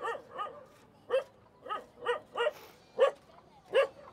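Dogs in a slum neighborhood of Cebu City, Philippines, bark in short, moderately close yelps, about eight spaced barks over a few seconds, with no talking.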